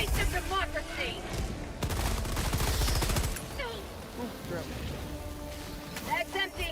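Rapid automatic gunfire rattles in dense bursts during a fight against bugs in the video game Helldivers 2. Sharp shots and impacts stack up loudly, with a burst of heavier fire in the middle and quieter pops toward the end.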